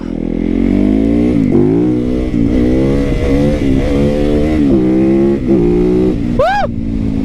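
A lightweight supermoto motorcycle rides past close and loud, its engine note climbing and dropping through repeated revs and gear changes, ending in a sharp high rev.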